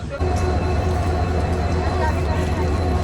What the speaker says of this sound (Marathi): मदुराईवरून ट्रेन निघाली आपली रामेश्वरमला